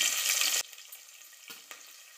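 Onions and green chillies frying in a pan, a loud close sizzle that cuts off abruptly, followed by faint quieter crackles and two brief stirring clinks.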